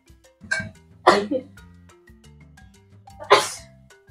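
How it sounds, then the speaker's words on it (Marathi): Three sharp, breathy sneezes triggered by spice fumes from tempering while cooking crab curry, spaced across a few seconds, close by, with faint background noise between them. "फोडणीची शिंका आलीच पाहिजे."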